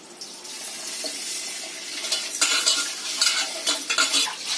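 Two bowls of rice washed by hand in water, swished and rubbed with splashing and clinking against a metal vessel, close and steady, growing busier toward the end with no talk.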